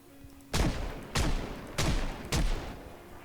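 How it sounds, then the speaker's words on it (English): Four sharp .38 Special revolver shots ring out in the video game Adventures of Casey Shade, evenly spaced about half a second apart and loud and close, each with a short decaying tail. "I did want to try to shoot a little bit with the 38 special"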